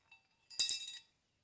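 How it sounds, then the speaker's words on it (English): A coated metal thrust washer set down on a Cub Cadet 1882 steering spindle gives a single brief, bright metallic clink up close, with silence before and after. "there's an additional washer that I'm putting down here"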